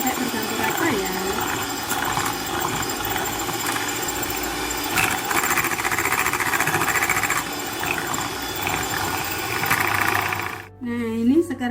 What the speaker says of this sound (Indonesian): Setelah ini mixer lagi sampai tercampur rata.